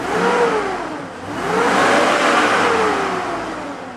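A 2001 Chevy 5.3 LS V8 with 161K miles runs on a test stand, revving up and settling back twice in smooth, steady swells, loud and close with no talk.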